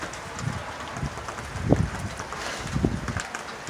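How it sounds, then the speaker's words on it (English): Strong gusting wind during a thunderstorm roars against an open microphone in broadband rushing swells, with several louder gusts surging and fading over a few seconds. "the wind almost blew me down"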